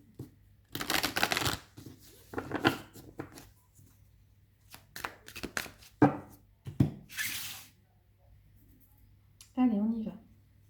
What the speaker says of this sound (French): je mélange une dernière fois mes cartes